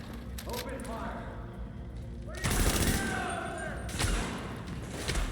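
Gunfire erupts in The Division, with a sudden loud, dense volley of shots and thuds that keeps going, and a voice heard briefly before it.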